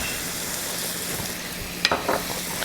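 Yogurt drops into sizzling masala of chopped tomato in a pan, a steady fry hiss broken by a short louder splattering burst near the end, with no one talking.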